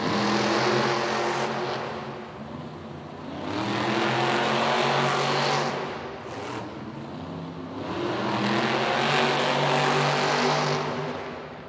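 Monster trucks race at a Monster Jam event in Los Angeles, their engines roaring loud and close in surging waves as they rev, ease off and rev again.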